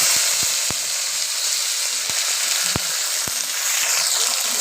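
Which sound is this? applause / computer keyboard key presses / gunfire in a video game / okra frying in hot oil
okra frying in hot oil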